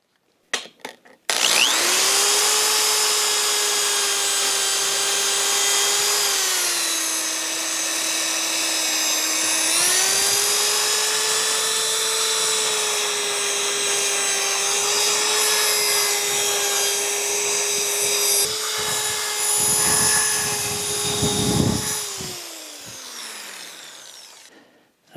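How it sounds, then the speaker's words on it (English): An electric power drill spins inside a bicycle seat post to clear it, a steady high whine running for over twenty seconds with small pitch dips as load changes, then winding down at the end; close and alone, no talk. "I'm going to try clearing the seat post a little bit more aggressively by using a drill."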